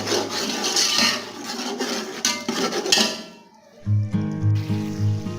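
Peas and rice being stirred and roasted in a pot for matar pulao, with repeated scraping and rubbing of a spoon against the metal, then rhythmic clunks and rattles near the end.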